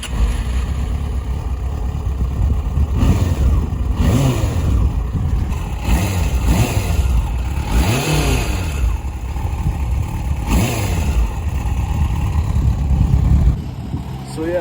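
A Yamaha FZ6 four-cylinder motorcycle engine idling close up, then revved repeatedly in rising and falling sweeps, loud and continuous, before settling near the end.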